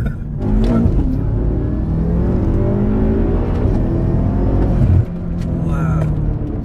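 A 1000bhp BMW F10 M5 accelerates hard nearby, its loud engine note climbing steadily, dipping briefly at a gear change, then rising again.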